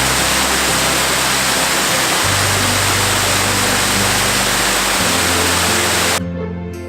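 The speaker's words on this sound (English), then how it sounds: "These beautiful little waterfalls all along the way." Small waterfall in a rainforest at Kondalilla pours in a steady, full-bodied rush of falling water, loud and close, continuing unbroken with no voices.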